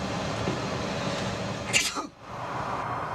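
A single abrupt sneeze bursts out over a steady background hum aboard the Space Shuttle Discovery during mission STS-51 in 1993, followed by a brief hush.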